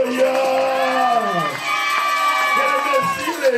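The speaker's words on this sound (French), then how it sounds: "Est-ce que quelqu'un peut acclamer pour les choristes?" A church congregation cheers and shouts in acclaim for the choir, a dense crowd roar with whoops and raised voices sustained throughout, close and loud.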